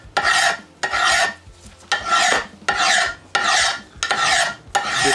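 A file or scraper rasps the rusty lip off the edge of a front brake disc on a VW Audi car, making six rhythmic, close, harsh scraping strokes with short pauses between them and no speech.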